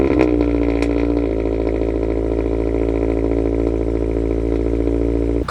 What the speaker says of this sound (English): I'm gonna get you guys a little cold start with the new exhaust.